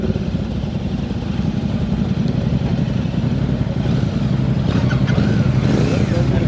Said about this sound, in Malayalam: ഓരോരുത്തർ അവരുടേതായ ബൈക്ക് എടുത്തിട്ട് അവരോട് പോകുന്നുണ്ട്